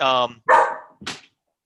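A dog barks a few times at close range, three short separate barks in a row with pauses between, heard over a call with no talking during the barks.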